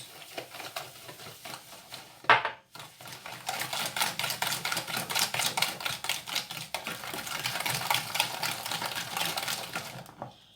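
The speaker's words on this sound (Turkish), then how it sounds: "Önce yumurtamızı çırpıyoruz." Eggs whisked in a bowl before sugar goes in, a rapid rattling run of utensil strokes against the bowl with a short pause partway through, then fast rhythmic clicking to the end, close up and without speech.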